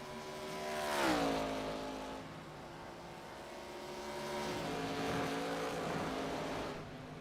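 Race car engines from an iRacing sim race at Watkins Glen drone and swell, with one car's engine pitch rising and falling as it passes around the one-second mark, then a steady broad engine roar continuing.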